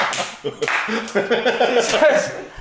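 A small group playing a tabletop role-playing game offers a few sparse, half-hearted claps, patchy and uneven, mixed in with close talking and laughter.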